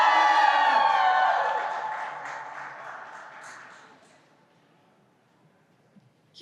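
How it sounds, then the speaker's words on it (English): A crowd of students at a rally against legacy admissions in New York cheers and whoops with clapping for a student speaker, loud at first with shouted voices, then fading away to near silence. "Can we please have another round of applause for Hannah?"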